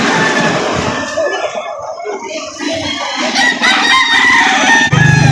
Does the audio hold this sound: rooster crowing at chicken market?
yes